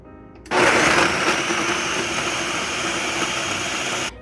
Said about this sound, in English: Once you have that all in your blender, blend it for about 1 minute.